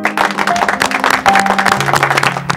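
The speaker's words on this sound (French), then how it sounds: "On peut les applaudir." Audience applause after a closing farewell, a dense steady patter of many hands that fills the clip, with a faint sustained tone running underneath.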